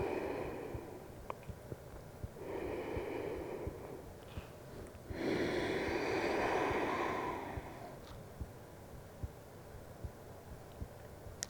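Slow, deep breathing during a trauma-informed yoga session: a few long, soft inhales and exhales spaced several seconds apart, faint and close, with light background ticking.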